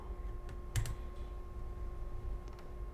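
A computer mouse gives a single sharp click in display-control software, followed by a couple of fainter clicks, close by over a quiet electrical hum.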